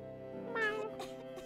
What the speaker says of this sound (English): Oh? Is that a cat?